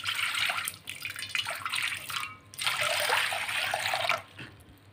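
Water poured into a pot while making homemade desi lassi, a close, bright splashing pour in two bursts separated by a short pause, with a faint trickle between.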